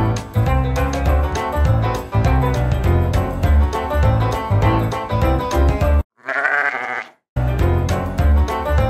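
Sheep at a sales barn bleating loudly and repeatedly at close range, overlapping calls in a busy chorus, broken by a brief dropout and then a single clear bleat before the chorus resumes, with no talk.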